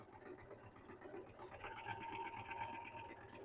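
A sewing machine stitches a zipper pouch, running a steady mechanical whir with a rapid needle rhythm that picks up slightly in the second half, close and continuous, with no talking.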